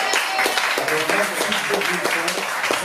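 A crowd at a slam poetry night in Nice applauds a performer, dense steady clapping filling the room throughout, with voices and cheers mixed in under it.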